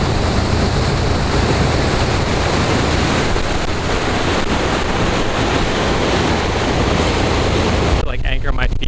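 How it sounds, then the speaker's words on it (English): Constant rushing, splashing water with heavy wind buffeting the microphone, loud and unbroken until it cuts off near the end. "just picking up the splash in the water"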